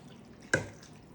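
A single splash of water drops into a baking tray of bacalao fish being prepared for the oven, a brief close drip-like plop over quiet kitchen background.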